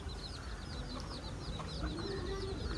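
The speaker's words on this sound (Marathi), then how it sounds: "आता आपण गावठी कोंबडा बघतोय" Village hens cluck softly against a steady background murmur at a roadside dhaba, with a few brief, higher calls.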